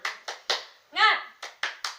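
Schoolchildren in an online primary-school lesson do a rhythmic 'tepuk semangat' cheer clap: a few sharp claps in a steady pattern, a short chanted vocal burst in the middle, then more claps.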